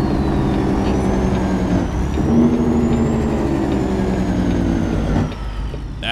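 Peterbilt 379 truck in American Truck Simulator engaging its Jake brake, a loud, steady, low diesel rumble with harmonic drone that runs nearly continuously for about five seconds, shifts briefly midway, then drops off near the end.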